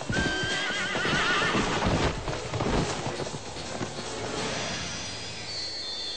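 An agitated horse at an outdoor ceremony whinnies loudly, then hooves stamp and clatter on hard ground amid crowd noise, close and busy.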